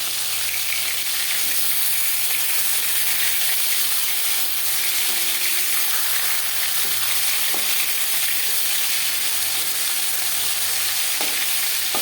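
Aar fish frying in hot oil in a pan, a steady broad sizzle running the whole time with a few faint clinks underneath.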